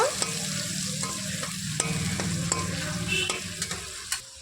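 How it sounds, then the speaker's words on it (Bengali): Onion paste made from two medium onions frying in a pan for a potol kalia curry, stirred gently with a spoon scraping at irregular intervals over a steady close sizzle, no voices. "দুটো মিডিয়াম সাইজের পেঁয়াজ আমি মিক্সিতে পেস্ট করে নিয়েছি দিয়ে দিচ্ছি হালকা হাতে একটু পেঁয়াজটাকে নাড়াচাড়া করে নেব"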